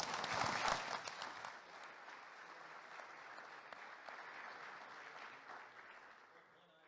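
Convention audience applauding in a hall, a dense wash of many hands clapping that peaks loudly at the start and then holds steady, gradually tapering off near the end.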